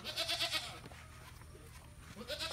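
Penned goats on a farm give loud, close bleats at the start and again at the end, with quieter rustling and shuffling in between.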